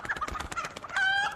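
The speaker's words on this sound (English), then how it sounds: "Alive chicken." A live chicken clucks in quick bursts, close and fairly clear, ending in a longer drawn-out squawk.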